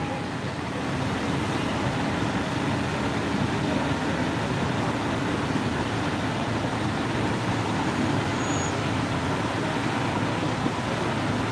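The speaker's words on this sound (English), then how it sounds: "Looks like we got a traffic jam here." Steady roadway rumble of idling and slowly moving cars, buses and trucks backed up in a traffic jam along a parade route, a continuous broadband drone with no distinct horns or voices standing out.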